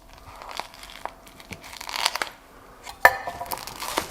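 Plastic packaging around ribeye meat is torn and crinkled open up close, with scattered rustles and a sharp rip partway through, no speech.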